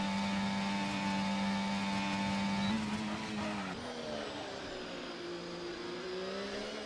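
Formula One cars in a racing video game on the final stretch of a Brazil race, with a sustained high engine whine that shifts pitch as gears change, loud and continuous.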